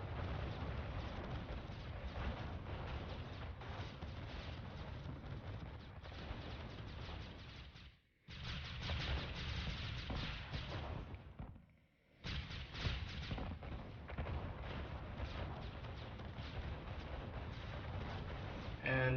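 Red Alert 2 tank battle gunfire rumbles as dense, continuous cannon blasts and explosions, broken by two brief silences, with a commentator talking over the action.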